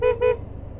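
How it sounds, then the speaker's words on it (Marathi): A motorcycle horn with something apparently wrong with its sound gives two short, close, loud honks in quick succession, followed by low engine and road rumble. "हॉर्नच्या आवाजाला काय झालं माहिती नाही"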